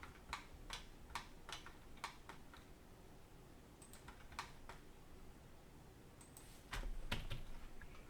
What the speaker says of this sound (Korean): 다음에 25 엔터 치고 또 L 엔터 쳐서 25mm 그려보겠습니다